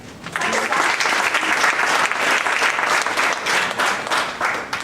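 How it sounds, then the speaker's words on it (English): An audience applauds a student's speech on hard work at a youth leadership program finale, the clapping rising quickly and holding as a loud, continuous burst before easing off. "Don't you think we have to applaud her for it?"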